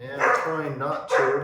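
A dog barks a few times indoors, the sharp yaps breaking through a person's steady talk nearby.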